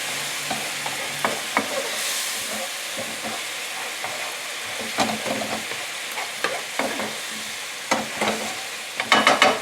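Apples stirred in a hot pan as they caramelize, giving a steady sizzling bed broken by frequent scraping, clattering stirs that grow sharper and louder toward the end; no voices.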